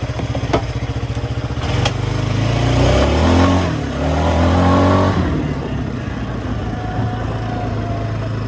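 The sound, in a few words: engine of a newly bought machine being throttled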